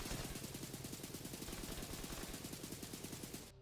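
An auto rifle fires in rapid, evenly spaced bursts in The Division 2 video game, with loud continuous shots running nearly four seconds before stopping abruptly.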